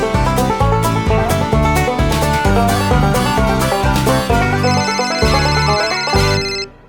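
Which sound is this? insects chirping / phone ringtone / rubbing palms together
phone ringtone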